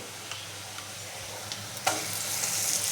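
Spice paste of turmeric, cumin, coriander, salt, tomato, ginger, garlic and chili tipped into frying onions, a steady close sizzle with a few light taps, then a sharper burst as the paste hits the oil.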